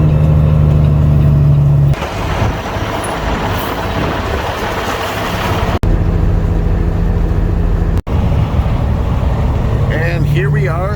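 A heavily loaded salt truck driving on a rough road, heard from inside as a loud, constant engine drone with rattling and road rumble, someone talking over it throughout.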